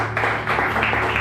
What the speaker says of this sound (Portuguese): Vamos aplaudir bem forte o nome